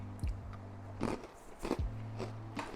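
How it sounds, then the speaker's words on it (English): Three sharp crunchy bites into biscotti a short way apart, each a crisp crackling burst up close, with quiet chewing and a low hum in between. "yeah, the biscottis are really crunchy."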